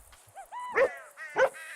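A retriever dog barks in Grand Theft Auto V, two sharp barks about half a second apart, preceded by short whimpering yips, clear and close with no talk over them.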